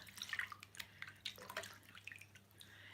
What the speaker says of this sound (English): I dip it in the cold water here. Rinse it like that.